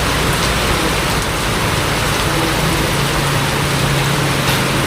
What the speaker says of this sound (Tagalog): Grabe ang ulan na.